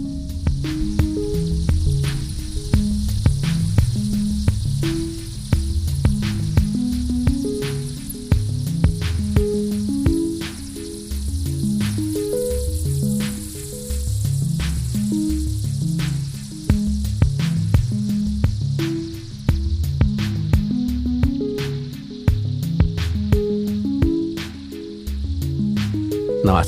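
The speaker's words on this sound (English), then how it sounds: "What you heard was the sound of 20 million bats" Some 20 million bats in Bracken Cave, Texas fill a field recording with a dense, continuous hiss and chatter, layered with rapid clicks and rhythmic low pulses, loud and unbroken throughout.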